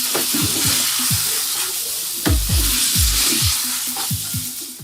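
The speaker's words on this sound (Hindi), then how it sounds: "2 मिनट बाद एक दफा चम्मच चला लें।" Chicken tikka sizzles loudly in a pan while a spoon stirs it, scraping and knocking in quick repeated strokes over a steady frying hiss, close up with no talk.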